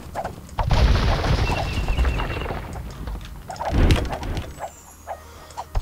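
A bombard cannon fires in the video game Age of Empires II, with heavy booming blasts and sharp cracks breaking through amid battle clatter, followed by a quieter stretch of scattered smaller hits.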